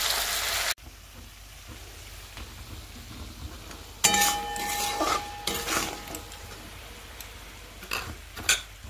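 Chicken posto spices and sugar frying in a pan while being stirred, with scraping stirs and soft sizzle building after a quiet start, utensil clinks near the end.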